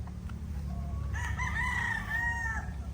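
Chickens in a flock of pullets about seven to eight months old: a drawn-out, crowing call rises and falls over a steady low mechanical hum, fairly close and without talk.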